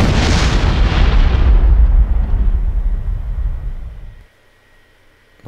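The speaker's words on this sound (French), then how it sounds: "je vous ai mis un son d'explosion en fait pour voir un petit peu le rendu" Explosion sound effect played dry with no processing: a loud, sustained rumbling boom with a bright initial blast that rolls off and decays over about four seconds before cutting to near silence.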